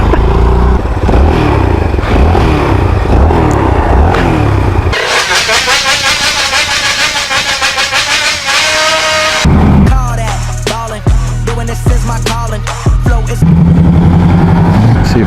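Vader 125 motorcycle engine while riding, loud and close, with gear changes, revving up and easing off through the whole stretch, plus some clattering and wind noise, and a voice in places.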